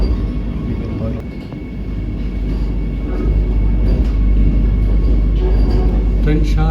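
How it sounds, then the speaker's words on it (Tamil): A Vande Bharat Express train pulling out on the Bangalore to Chennai run, heard as a loud, steady low rumble with rising mechanical hum and occasional clanks as the train gets underway. "ட்ரெயின் ஷார்ப்பாக கிளம்பிச்சு மக்கள்."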